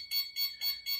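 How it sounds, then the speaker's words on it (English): A Mastercraft 1HP WiFi garage door opener gives four evenly spaced, high, piercing electronic beeps as the door closes. The beeps are short and clean with silence between them. "And that's just the alarm saying the door is closing,"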